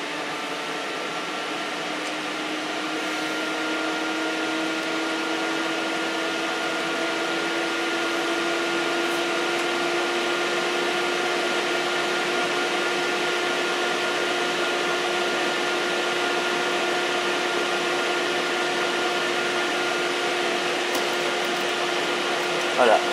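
A Dell PowerEdge SC1430 dual-CPU server starts up with a loud, steady whir of cooling fans that rises slightly, then holds as a constant droning hum with a faint whine throughout.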